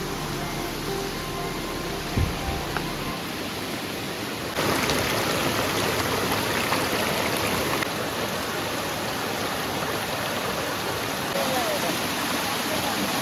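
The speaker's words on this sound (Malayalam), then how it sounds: "ചെറിയൊരു വെള്ളച്ചാട്ടം." A small waterfall and stream in Chimmini Wildlife Sanctuary, Kerala, produce a steady, close, broadband rush of falling and flowing water that continues unbroken throughout.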